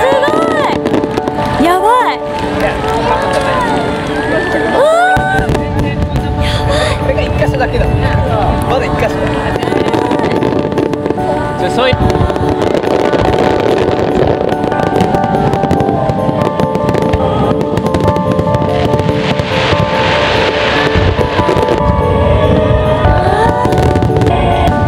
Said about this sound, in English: for this firework festival, there are so many points that shoot the fireworks.